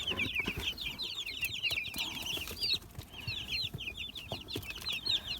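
Many chicks peep in a busy high chorus while hens cluck low underneath, close by, with faint rustling and scratching throughout.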